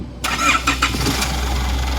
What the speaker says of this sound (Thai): รีวิววิดีโอตอนติดเครื่องยนต์นะครับ